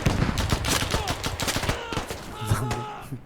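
Rapid overlapping gunfire in the military video game Squad, dense bursts of shots throughout with several weapons firing at once, loud and continuous.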